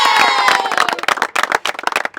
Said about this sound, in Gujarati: એકવાર તાળીઓ પાડી દો